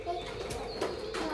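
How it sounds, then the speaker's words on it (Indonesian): Chirpy forest bird calls from an owl toy repeat over a steady electronic hum, with short bursts standing out near and fairly loud. "ni macam bunyi burung kat hutan."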